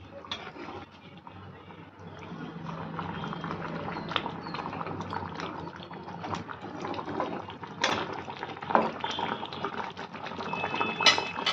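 Large boal fish simmer in a pan as liquid bubbles and sizzles steadily, with scattered pops and splashes and occasional clinks close by.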